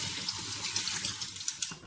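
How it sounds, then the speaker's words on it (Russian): Tap water runs steadily over chopped onion and pepper as they are rinsed in a sink, a continuous close splashing rush with a few brighter spatters toward the end. "Нарубленный лук и перец хорошенько промыть под чистой проточной водой."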